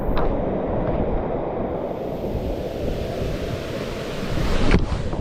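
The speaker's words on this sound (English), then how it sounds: "This is one hell of a waterfall." A waterfall in Belize roars in a dense, continuous rush of water, loud and steady with wind buffeting the microphone and no voices.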